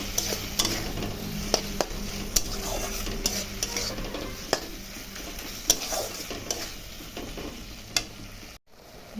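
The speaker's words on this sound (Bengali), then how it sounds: "মশলাটা এখন ভালো করে কষিয়ে নেব" Turmeric, salt, cumin and Kashmiri chilli powder sizzling in oil in a pan, with sharp rhythmic taps and scrapes of a spatula against the metal every second or so over a steady hiss, close up and without voices.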